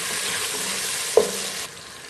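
Garlic cloves and ginger fry with onions in a pot for gobhi gosht, a dense close sizzle with one sharp spoon clink midway before the hiss drops quieter.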